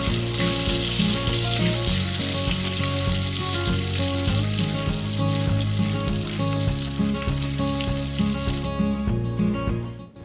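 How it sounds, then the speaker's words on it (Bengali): Ginger, garlic and two dried red chillies fry in hot oil for a chilli chicken, a loud continuous sizzle close up with occasional stirring scrapes, cutting off near the end. "ওই তেলেই আমি 2টো শুকনো লঙ্কা ফোড়ন দিয়ে আগে থেকে কুচিয়ে রাখা আদা রসুনগুলো দিয়ে খুব ভালো করে ভেজে নেব"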